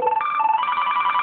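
A phone rings steadily and electronically throughout a call test comparing a Motorola Droid on Verizon with an LG Optimus M on MetroPCS. The tone is close and continuous, with no talk over it.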